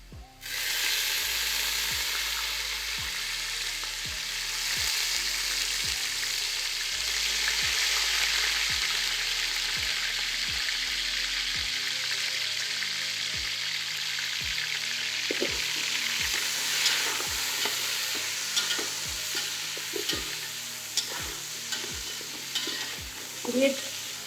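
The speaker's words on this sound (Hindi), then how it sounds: "इसमें हम अपना गोश्त अभी डालेंगे, गोश्त को थोड़ा भूनेंगे।" Mutton fries in a pot for Eid pulao with a steady hissing sizzle, while a metal spoon scrapes and knocks against the pot in regular stirring strokes, close and continuous without talk.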